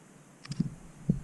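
A camera shutter fires for macro shots at a high shutter speed: two crisp, close clicks about half a second apart over a faint steady hiss.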